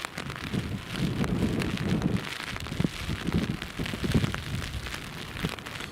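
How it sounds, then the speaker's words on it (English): Heavy rain pelting an umbrella during Storm Ashley at Newcastle Airport: a dense, constant patter of drops with gusty wind rumble buffeting the microphone, close and continuous, no talking. "I hope all of you can hear the rain hitting the umbrella because it's very heavy"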